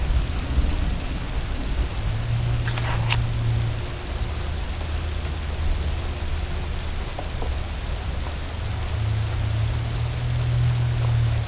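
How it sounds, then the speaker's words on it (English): Steady rain hisses throughout during a strange-weather storm, with low rolling thunder rumbling in the background and a few faint ticks of drops hitting a nearby surface. "Starting to rain. There's thunder."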